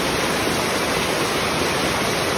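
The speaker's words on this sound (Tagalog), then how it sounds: "Dito na yung tubig natin sa kasalukuyan" Floodwater rushes through farm fields and near a bridge during Typhoon Uwan, making a loud, unbroken roar of churning water that stays close and steady with no pauses and no voices.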